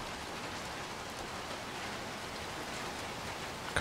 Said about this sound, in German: Na toll, es regnet.